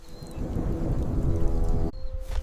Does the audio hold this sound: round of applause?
no